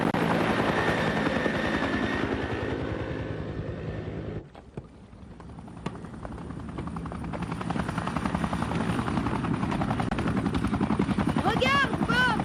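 A cartoon aircraft comes in to land with a rhythmic, helicopter-like rotor chop, loud at first, briefly dropping away, then building again steadily, with voices talking over it.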